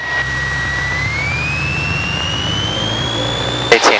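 A small airplane engine runs up during the pre-flight check, a steady loud drone with a high whine that climbs a little in pitch, then a short clunk near the end.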